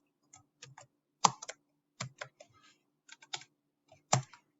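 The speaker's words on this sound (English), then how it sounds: "And I type in my postal code." Typing a postal code on a computer keyboard, a sparse series of soft, close key clicks in small irregular bursts against a quiet background.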